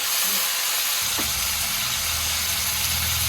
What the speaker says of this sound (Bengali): তো দেখো এইভাবে একটু ভাজা ভাজা করতে হবে